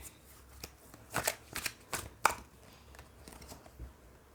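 A deck of tarot cards is shuffled by hand in a run of quick papery riffles and flicks, a cluster of crisp bursts in the middle of a quiet room, with no voice over it.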